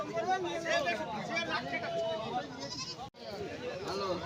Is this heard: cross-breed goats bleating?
yes